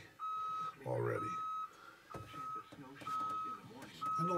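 Repeated electronic warning beeps in long steady tones with short gaps, while someone talks over them in the cab of a CAT D6K LGP bulldozer.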